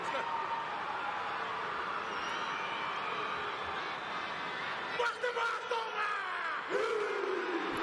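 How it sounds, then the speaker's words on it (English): Tongan Sipitau war dance chant in a stadium before a rugby league match, heard as a loud, continuous crowd roar with massed voices, distant shouts and cries rising over a steady wash of stadium noise. "As we ready ourselves for the Sipitau."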